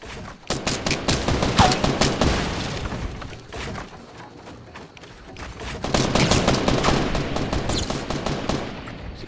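Bursts of rapid gunfire in a video game crackle loudly in two dense volleys with a quieter gap between them, heavy automatic fire mixed with booming hits.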